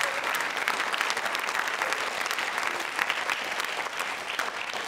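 A quiz show audience at MJRP University bursts into dense, sustained applause for a contestant, a loud, steady wash of clapping lasting the whole stretch, with faint voices mixed in.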